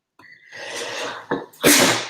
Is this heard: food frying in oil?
no